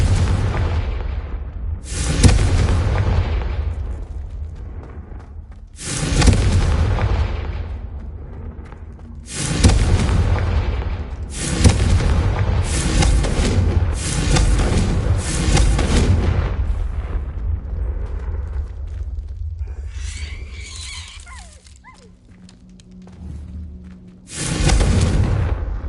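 Confringo blasting spells in Hogwarts Legacy go off as a series of loud, booming explosions, each a heavy burst followed by a rumbling tail, with a few short gaps and softer magical shimmering in between.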